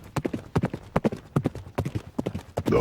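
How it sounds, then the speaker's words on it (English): Horses in snow pulling forward at a ragged trot, hooves clip-clopping in a steady, slightly irregular rhythm, close and clear. "The horses were pulling forward at a ragged trot"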